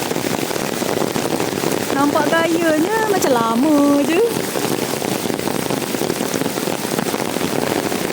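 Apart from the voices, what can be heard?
heavy rain falling at a campsite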